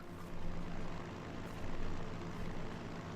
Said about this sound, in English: There's our plane coming in.